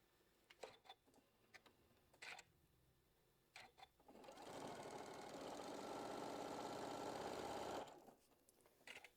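A sewing machine stitches a quilt block seam at a scant quarter inch, a steady close mechanical whir running for a few seconds between scattered clicks and handling noises, with no talking.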